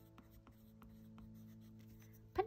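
Goldfaber white colour pencil drawn across paper in a gradient test, a faint soft scratching with a few brief strokes, then a louder scrape at the end.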